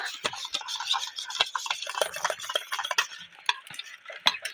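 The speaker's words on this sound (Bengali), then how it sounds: "আমি টক দইটা একটু ফাটিয়ে নেব ভালোভাবে" Sour yogurt whisked briskly in a bowl with a spoon, a close, steady run of quick scraping and clicking strokes with no talk.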